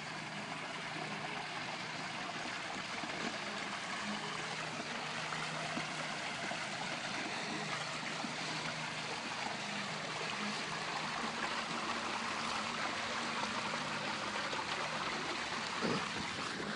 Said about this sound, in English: I've come down here to see the running water